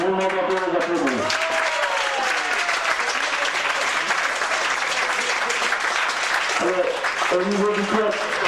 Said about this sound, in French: Donc vous m'entendez les applaudir.